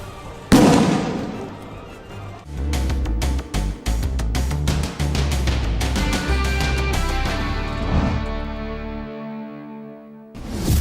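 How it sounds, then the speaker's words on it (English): Loud bursts and crackling pops of illegal fireworks detonated by the LA Fire Department, a rapid dense barrage of blasts with ringing tones, continuing for several seconds before tapering off. "The summer fruit was detonated by the LA Fire Department to show the potential dangers of illegal fireworks."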